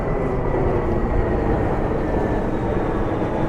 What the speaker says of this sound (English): Another plane on its way into Reagan National